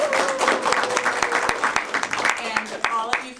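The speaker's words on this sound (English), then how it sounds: "I applaud our first timer" Audience applause at an evening storytelling event, a steady burst of clapping from a small crowd that carries through the moment at moderate loudness.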